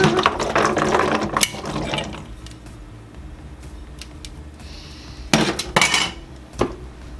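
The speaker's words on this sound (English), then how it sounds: "Handy dandy electric can opener!" An electric can opener works through cans of chickpeas with a close, grinding mechanical whir and ratcheting clicks, then a few sharper metallic clanks and knocks near the end.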